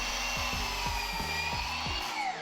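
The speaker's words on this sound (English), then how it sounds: "cutting my material down to size" Power saw cutting rough 4x4 cedar for a chair build, a steady loud whine with a series of rhythmic thumping pulses as the blade works through the wood, close up and with no talk.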